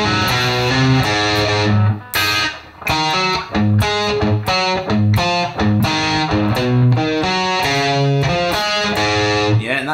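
At a slow tempo, a distorted electric guitar works through a riff, loud, separate picked notes and short chord stabs with brief gaps between phrases and nothing else underneath.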